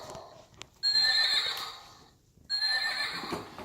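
A horse neighs twice on a recording, each a loud, shrill, quavering whinny lasting about a second and a half, with a short gap between them and a faint tap just before the first.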